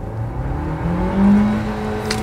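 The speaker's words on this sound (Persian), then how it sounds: "میخوایم ببینیم رو دنده یک چقدر شتاب میگیره" A Dacia Duster accelerates hard in first gear, its engine tone climbing steadily in pitch with a loud, close whine from inside the car, no talking.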